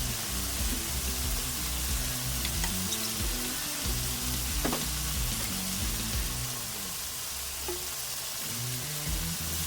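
Fish qorma masala fries in a pot as a splash of water hits the hot yogurt-and-spice mixture, giving a steady, dense sizzle with occasional stirring clinks throughout.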